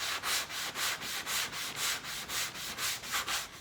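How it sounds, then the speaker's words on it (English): Hand sanding of glaze on a BMW hood with a 12-inch triangle block, a steady scratchy rasp repeated in even back-and-forth strokes, about four per second, close and continuous. "we just gave that a quick sand with the 12-inch triangle block"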